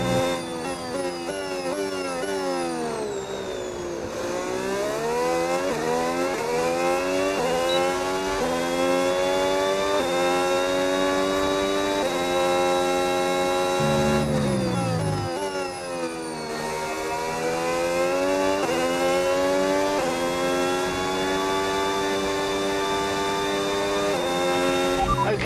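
A Red Bull Racing F1 car laps on very old tires in the F1 26 video game, its high-pitched engine climbing and dropping through gear changes in steady, loud sweeps with no talk.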